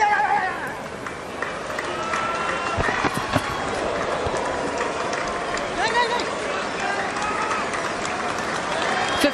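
Cricket crowd and teammates in the change room applauding a batsman's fifty during a Pakistan versus South Africa Test match, a steady wash of clapping and crowd noise with scattered louder claps, sustained throughout.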